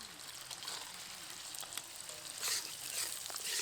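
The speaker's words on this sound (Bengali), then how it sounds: "এবার এর মধ্যে দিয়ে দেবো ফেটানো টক দই" Beaten sour yogurt hitting hot masala for a pomfret curry, giving a soft steady sizzle and frying hiss with a few faint stirring scrapes, fairly quiet and close.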